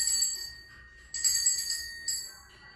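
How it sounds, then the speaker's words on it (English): A small bell rings for a dog in three bright, close rings, each fading slowly, in a quiet room. "Now I ring the bell and then give him a treat."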